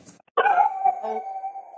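A dog barks indoors in a home setting, one drawn-out, somewhat howling bark close by after a brief quiet pause, with no speech over it.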